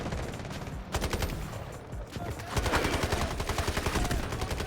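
Rapid bursts of automatic gunfire and shotgun blasts from the Delta Force video game, dense and loud, with repeated shots running continuously across the clip and growing heavier in the second half.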